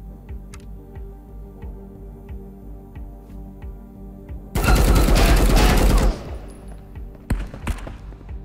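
Rifle fire in the video game Marauders, one loud burst of rapid automatic shots lasting about a second and a half, then a couple of lone shots, over a soft steady ticking.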